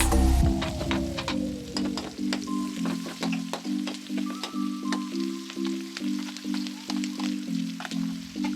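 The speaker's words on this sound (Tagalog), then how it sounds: "Igisa lang hanggang lumabas yung aroma ng bawang at sibuyas." Garlic and onion sautéing in their own oil in a pan, a steady close sizzle with crackling pops and a regular scraping stir rhythm throughout, no voices.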